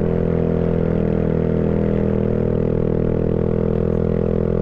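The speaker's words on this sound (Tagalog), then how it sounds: "Ingit yung motor natin eh." A Yamaha Mio scooter's engine strains steadily uphill with a passenger aboard, a loud, close, continuous droning hum with no break or change in pitch.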